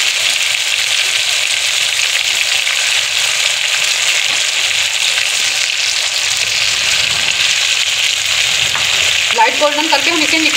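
Fish frying in hot oil left from browning onions, a loud, continuous, dense sizzle heard up close without a break.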